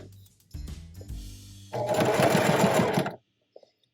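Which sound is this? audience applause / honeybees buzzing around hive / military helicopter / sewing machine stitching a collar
sewing machine stitching a collar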